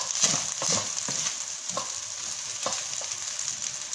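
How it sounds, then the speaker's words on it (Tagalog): Fried rice sizzling in a hot pan with lots of black pepper, a steady close hiss broken by several scraping stirs of a utensil, with no voices. "Yan, luto ng ating fried rice."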